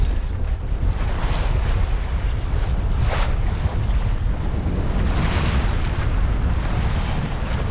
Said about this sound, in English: Here's some waves.